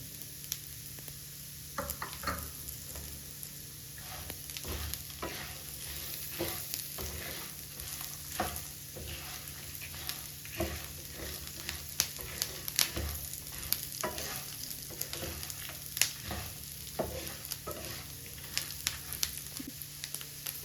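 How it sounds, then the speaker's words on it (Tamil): Chickpeas and other legumes (peanuts, black-eyed peas, black chickpeas, green gram) are sautéed in a pan for a gravy, giving a steady low sizzle with repeated scraping stir strokes throughout and no talking. "நல்லா வதக்கிக்குவோம்."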